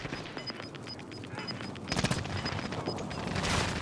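Bursts of gunfire crackle in a battle royale video game, rapid shots and a louder volley partway through, set over a steady game background with faint beeping tones.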